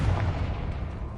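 A Confringo spell blast goes off in the Hogwarts Legacy video game, a short, deep, rumbling explosion heard up close with no talk over it.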